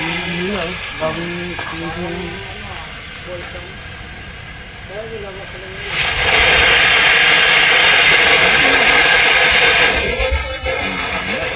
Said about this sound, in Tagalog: Rinig nyo yun mga master. So, singaw ng init.